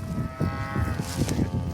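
Cattle in Africa moo in a low, drawn-out call, close and fairly loud over rumbling background noise, with no voices.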